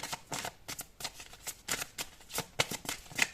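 A deck of tarot cards is shuffled by hand in a quick series of crisp riffling bursts, close and fairly quiet, repeating in an uneven rhythm with a faint voice now and then.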